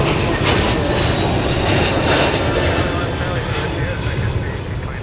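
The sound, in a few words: Delta Airbus A321neo jet departing at MSP airport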